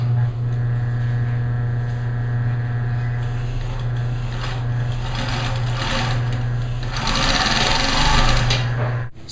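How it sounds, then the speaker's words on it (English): A sewing machine runs steadily as it stitches fabric pieces together, a loud, even motor drone with a rapid needle chatter that surges louder near the end before cutting off. "I want to sew them together on three sides"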